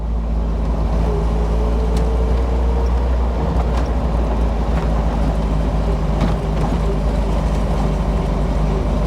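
A 1981 Triumph TR7 Convertible drives along a seafront, its engine giving a steady, moderately loud drone with road rumble and wind noise throughout, no voices.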